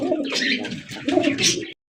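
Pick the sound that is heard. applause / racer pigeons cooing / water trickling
racer pigeons cooing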